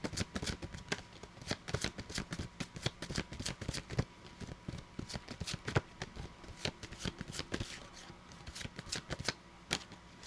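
Tarot cards being shuffled in a rapid, steady run of crisp riffling flutters and slaps, close and fairly loud, carrying on without pause.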